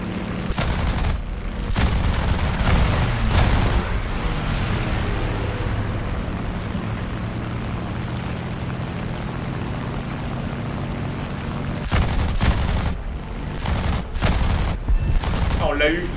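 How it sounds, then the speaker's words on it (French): Bursts of rapid 20mm aircraft cannon fire in a video game crack out in short volleys at the start and again near the end, over a steady droning aircraft engine. "Les canons de 20 qui marchent bien."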